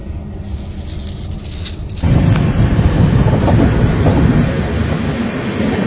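The Puri–Sealdah Duronto Express, train 22202, pulls into Bhubaneswar station: a low steady rumble that suddenly swells louder and stays heavy and continuous.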